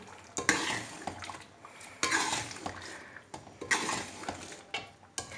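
Beef liver is stirred and fried in oil in a pan: a utensil scrapes and clatters against the metal in repeated bursts, over a soft, faint sizzle.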